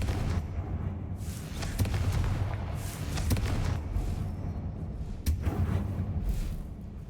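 Confringo spell blasts in the game Hogwarts Legacy: several sharp explosive bursts crack out over a dense rumbling battle backdrop, loud and close, with no talking.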